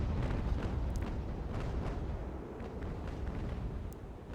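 Sailing-ship cannon fire in the naval video game Ultimate Admiral: Age of Sail, a dense rumbling barrage of booms and distant blasts rolling continuously and loudly, with a few sharper cracks.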